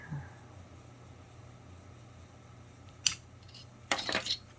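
Scissors cut through material in a quiet room, giving two short bursts of snipping near the end after a stretch of low background hiss.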